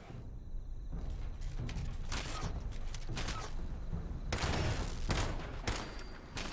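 Several .38 rounds fired in the video game Fallout 76, sharp bursts spaced through a busy in-game soundscape, with louder reports near the end.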